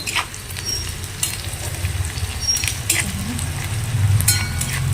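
A pan sizzles steadily as a spice paste fries for goat meat curry, with occasional scraping stirs and a low background hum.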